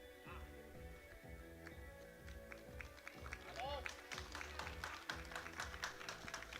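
Crowd applause and cheering at a European Open Classic Powerlifting Championships after a woman's first squat, steady clapping building in the second half over a busy arena hum and commentary.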